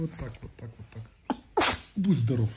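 A Russian Toy Terrier gives a couple of quick, sharp sneezes close up while someone talks softly around them.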